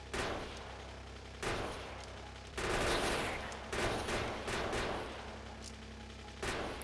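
Turret gunfire in Factorio, dense bursts of rapid automatic shots that come in waves with brief pauses between them, loud and continuous through most of the stretch.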